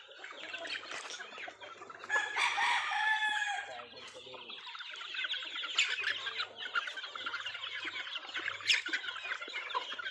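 Young roosters (stags) eagerly eating a stag developer feed mixed with coated grains, with busy overlapping clucks and squawks close by and a few louder crowing-like calls, continuous throughout.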